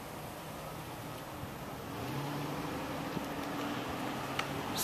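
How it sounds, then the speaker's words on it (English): Street traffic in Brooklyn, New York: a steady broadband wash of passing cars with a low engine drone, growing slightly louder midway, distant and continuous with no voices. "It's too much traffic here."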